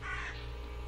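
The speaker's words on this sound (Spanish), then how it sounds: "¿Los cuervos siguen aquí?" A crow caws briefly and faintly in the video game The Last Door, a single short call over a steady low ambient hum.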